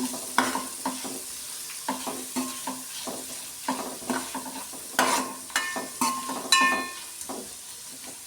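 A spoon stirs salted pakodi batter with turmeric in a bowl, giving repeated wet scraping and knocking strokes in an uneven rhythm, close and fairly loud, with a few sharper clinks against the side of the bowl.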